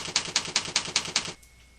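Keys on a computer keyboard are struck in a quick, even series of about seven clicks that stand out clearly, then stop into near silence.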